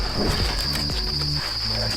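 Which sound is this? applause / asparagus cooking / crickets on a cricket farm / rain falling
crickets on a cricket farm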